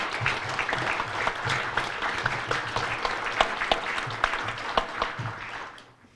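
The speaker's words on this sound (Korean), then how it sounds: "여러분 다시 한번 큰 박수 부탁드립니다." Dense audience applause at a Korean political forum event for a presidential candidate, steady clapping with a few sharper claps standing out, then fading away at the end.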